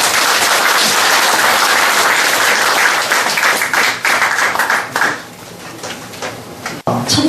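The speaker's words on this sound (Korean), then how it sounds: "우리 덕천 오건훈 선생님 큰 박수로 모시겠습니다" An audience at a Korean lecture on the Thousand Character Classic applauds loudly to welcome the lecturer, continuous clapping that thins out into scattered claps and a few knocks near the end.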